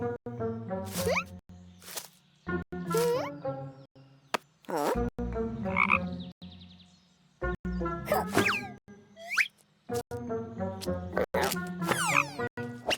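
Repeated croaking calls of a frog in a cartoon in choppy bursts, close and fairly loud, broken by sharp plops and short silences.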